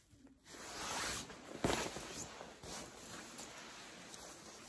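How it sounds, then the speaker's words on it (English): The heavy zipper of a black Donna Karan coat is pulled, giving a close, raspy run of zipping with a sharp catch partway through, then fainter rustling as the metal hardware moves. "Look at the zippers."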